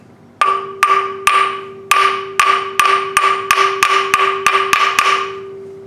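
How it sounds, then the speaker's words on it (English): Hammer peening the threads on a TH400 transmission part: about a dozen sharp metallic strikes in a steady rhythm, each ringing briefly, close and loud with no talk. "I'm going to peen these threads over here a little bit."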